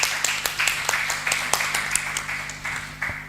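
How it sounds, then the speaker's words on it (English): Audience at an aquaculture conference in Ghana applauding, a smattering of close claps in a loose, fading rhythm rather than a dense roar. "So please let's give her a round of applause."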